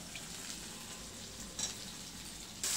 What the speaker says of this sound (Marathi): हे काय बटाटे टाकते